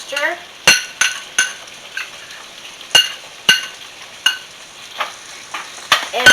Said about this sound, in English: We're going to just stir this into the mixture.